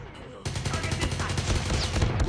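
A long burst of rapid automatic gunfire in the mobile shooter Call of Duty Mobile starts abruptly and runs steadily to the end, loud and close, with a faint voice underneath.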